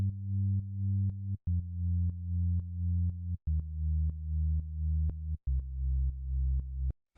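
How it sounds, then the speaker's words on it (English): Simple synth bass line from an Ableton Operator patch for organic house and techno, playing sustained low notes that step down through a chord progression with short gaps between phrases, heard alone and clean. "The next thing that we have here is the bass, which sounds like this"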